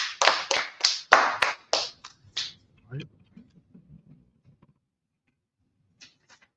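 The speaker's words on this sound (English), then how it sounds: "Clap it up for the class." Audience clapping at a class meeting of a Harlem-based brotherhood group, several loud close bursts of applause that quickly thin out into scattered claps and fade to near silence.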